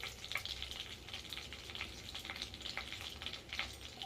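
Whole cinnamon, bay leaf and cardamom sizzle in hot oil for paneer masala curry, a steady frying crackle with soft pops throughout, fairly quiet and with no talking.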